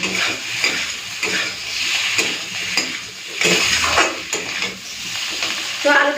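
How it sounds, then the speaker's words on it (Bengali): Spices and potatoes sauté in a hot pan, giving a steady sizzle with repeated stirring scrapes throughout, close and fairly loud. "ভালো মতো কষে নিয়েছি মশলাও ভালো মতো কষা হয়ে গেছে"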